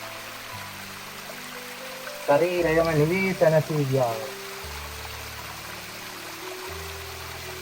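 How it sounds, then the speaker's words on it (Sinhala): Cool, clear water flows steadily in a stream at Namal Uyana natural park in Sri Lanka, a soft, continuous babble, briefly overlaid by a voice speaking in the middle. "සිරිසිරි හඬින් ගලා බසින සීතල දෙවියනේ ඖෂධය වැනි පිවිසිදු වතුර."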